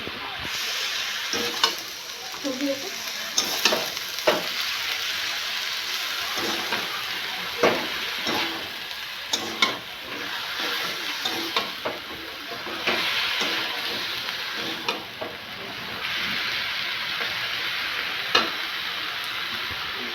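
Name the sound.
boiled greens cooking in a pan, water being reduced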